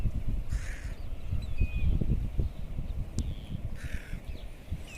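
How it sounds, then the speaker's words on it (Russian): A crow caws at a Mediterranean beach during low tide, two harsh calls spaced a few seconds apart over steady low rumbling surf and wind. "Вон ворона сидит, дразнит самцу."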